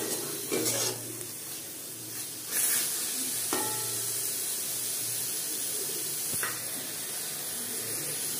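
Chhana cheese fries with spices in a pan, giving a steady close sizzle and hiss broken by a few scraping stirs.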